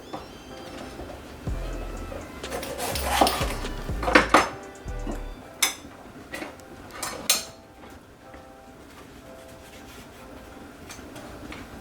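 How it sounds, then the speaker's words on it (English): Knife work on peppers for a salad, a run of sharp clinks and knocks against a board or dish in the first half, then sparser taps and occasional rattles, close and fairly clear with no voices. "I'll cut my peppers to add to the salad."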